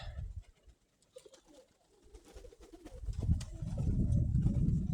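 Soft pigeon cooing nearby, low rounded calls rising in a rolling series toward the end, with faint rustling in the background.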